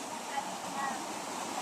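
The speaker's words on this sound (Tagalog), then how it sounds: "Naumag Waterfalls." Naumag Waterfalls in Aguinaldo, Ifugao, giving a steady broadband roar of falling water, continuous and fairly faint, with no clear talk over it.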